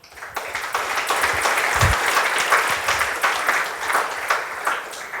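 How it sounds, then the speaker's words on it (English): An audience gives sustained applause after a patent tally is announced, a dense crackle of many hands clapping that starts abruptly and stays strong and even for several seconds, with faint crowd murmur beneath. "So I would request to have a great applause"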